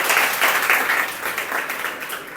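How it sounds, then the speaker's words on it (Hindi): Steady, close applause from a group of listeners at an SSC GD coaching gathering, a thick burst of clapping that stays loud throughout and eases slightly near the end. "तालियां हो जाए एक बार"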